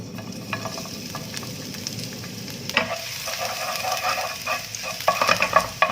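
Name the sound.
sautéing aromatics in oil in a wok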